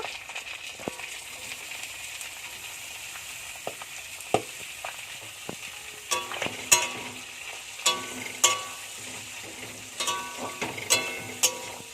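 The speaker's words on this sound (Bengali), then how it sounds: "আমি ওই তেলে উচ্ছেটা ভালো করে ভেজে নেব" Bitter gourd frying in fish oil gives a steady close sizzle, joined midway by sharper clacks of a utensil stirring and scraping the pan.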